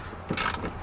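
A ratchet works on the seat bracket bolts of a Porsche Cayenne S 4.8L 957, giving one quick burst of clicking, close and brief, with no talking.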